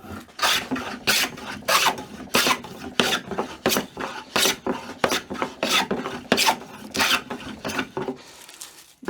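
A hand plane with a cambered blade takes thick, heavy shavings off wood in quick repeated strokes, each a loud rasping swish with a steady rhythm, about a dozen passes close up with no talking.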